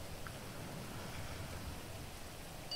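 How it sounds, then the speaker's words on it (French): Steady rain falling in the open world of GTA 5, a continuous broadband hiss of downpour with a low rumbling undertone, even and unbroken throughout, with no voices. "Pourquoi à chaque fois on se mange la pluie?"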